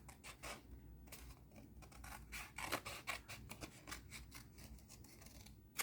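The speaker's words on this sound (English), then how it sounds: "I'm gonna take out my little scissors, and I'm just gonna cut her out" Small scissors snipping through paper while cutting out a decoupaged paper bird for a junk journal; quiet, close, rapid crisp snips in an irregular rhythm with no talking.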